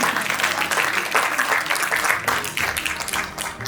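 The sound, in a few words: audience applause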